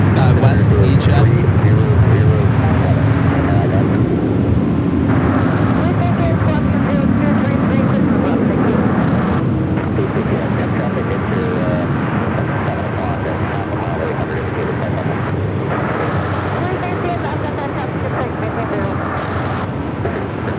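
United Express SkyWest E-Jet arriving at Los Angeles International Airport, a steady loud jet roar lasting the whole stretch, with broad engine rumble and a faint whine, slowly easing as it passes.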